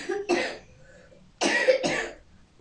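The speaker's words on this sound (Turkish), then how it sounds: "Tabii arkada da oğlum öksürüyor." A boy coughs in the background at home, one hacking cough followed a second later by a double burst, fairly close and clear over a quiet room.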